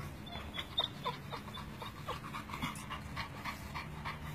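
Two dogs meeting, one of them on a leash, with close panting and quick breaths broken by soft whimpers and small yips against a low background hum.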